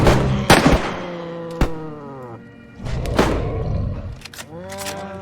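Video game M4 rifle gunfire in a polar excursion mission: sharp shots and thuds come in scattered bursts, loud and near, mixed with game sounds that ring out in tones.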